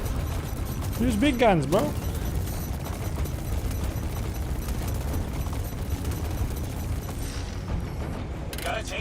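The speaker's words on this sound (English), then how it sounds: "That's Idris going up in flames." An Idris capital ship explodes in flames in Star Citizen, heavy rumbling blasts and mechanical crashing running throughout, with a voice speaking briefly over the start.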